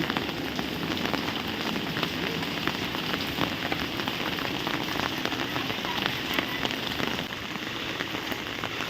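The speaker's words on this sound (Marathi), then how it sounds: "मित्रांनो पाऊस पडतोय" Steady rain pours down on a green village countryside with rice fields in Parle, a continuous, even hiss of drops hitting surfaces with no voices.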